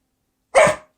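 A dog on a speak command lets out a single short, sharp bark after a moment of silence, close and clear.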